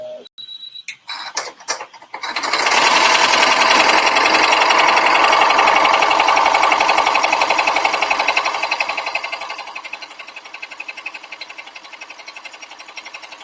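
An embroidery machine stitches a penguin design in gold thread, a loud, fast, steady mechanical rattle that starts after a few clicks and gradually fades to a lighter, quieter ticking toward the end.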